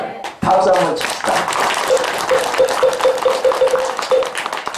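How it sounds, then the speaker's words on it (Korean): Audience applause at the opening of a Taego Order election campaign office, a burst of clapping that starts suddenly and carries on steadily and fairly loud for several seconds. "박수 한번 칩시다."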